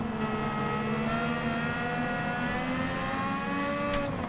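A race car engine in Gran Turismo 7 holds a steady, loud, high-revving whine, with rising and falling pitch harmonics as the revs shift through gear changes, continuous with no talking over it.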